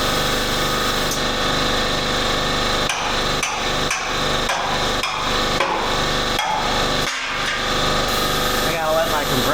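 An air compressor runs continuously in a workshop during a turbo S10 pickup build, its steady droning hum filling the space while a series of sharp, regular banging impacts strikes over it in the middle.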